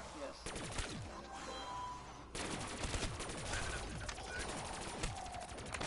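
Rapid bursts of automatic gunfire from a heat gun in Call of Duty zombies crackle in dense, repeated volleys, with a short pause before the firing resumes, while players talk over it.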